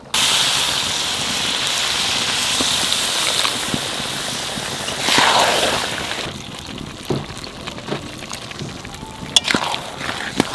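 Water poured into a pan of frying Bengali mutton curry after the meat has been browned for 15 minutes, giving a loud steady hiss and gush that swells midway, then settles into quieter sizzling with a few small pops.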